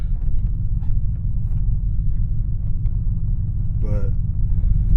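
An old Chevrolet Silverado with a new crate engine and a 4-speed transmission drives along. A steady, loud low rumble fills the interior throughout. A brief rising burst near the end may be the transmission shifting.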